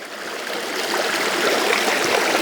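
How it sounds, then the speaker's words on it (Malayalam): Steady rushing and babbling of a flowing stream of cold, clear water on a property in Thiruvananthapuram, close by and continuous, growing slightly louder, with no voices. "നമ്മുടെ പ്രോപ്പർട്ടിക്ക് അകത്തൂടെ വരുന്ന അരുവിയാണേ നല്ല രസമുണ്ട്"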